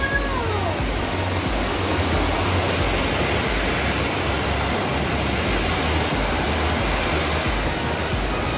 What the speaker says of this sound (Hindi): ये देखें जी, वो पानी आ रहा है ऊपर से और ये नीचे पानी जा रहा है।